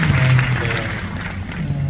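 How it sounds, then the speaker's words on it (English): Applause from an audience, a steady wash of clapping at moderate volume with a low hum underneath, continuing throughout. "a big round of applause"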